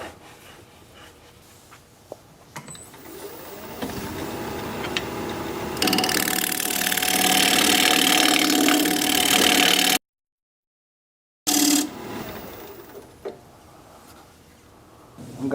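A half-inch bowl gouge cuts wood on a turning lathe, a rising rough scraping and tearing over the motor's hum that builds, breaks off briefly and then resumes more quietly.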